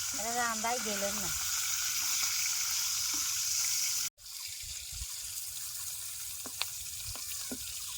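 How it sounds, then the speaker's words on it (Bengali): Bata fish frying in oil gives a steady hissing sizzle with occasional sharp pops, close by; a voice speaks briefly at the start, and the sound cuts out for a moment midway. "বাটা মাছটা ভাজা হয়ে গেছে,"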